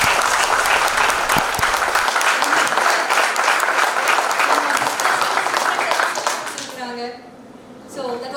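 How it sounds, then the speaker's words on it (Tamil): Loud audience applause at a business success seminar, dense and continuous for several seconds before dying away, followed by a voice beginning to speak. "சோ ஒரு பலத்த கைத்தட்டல்."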